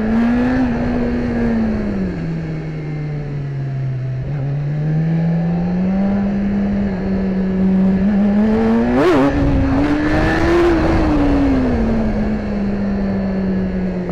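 A BMW S1000RR sport bike engine hums along a backroad, its pitch drifting up and down before a sharper surge of acceleration, loud and continuous with no speech.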